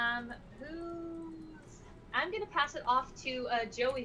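A cat meows several times, a drawn-out tonal meow at first and then a cluster of shorter, sharper meows, heard close and clearly while a person talks over part of it.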